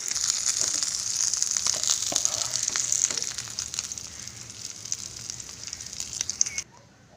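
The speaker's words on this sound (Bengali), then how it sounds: "কই মাছ আমার ভাজা হয়ে গেছে," Koi fish frying in oil in a pan, a steady bright hiss with fine crackles that fades gradually before cutting to near silence at the end.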